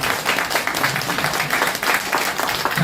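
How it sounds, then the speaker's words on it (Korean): Applause at a book launch for a longevity health book, a roomful of people clapping steadily and densely at close range for a few seconds, with no talking over it. "네, 보통 이럴 때 박수를 치던데요."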